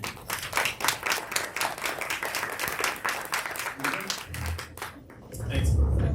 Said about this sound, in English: Let's have one more round of applause for our panel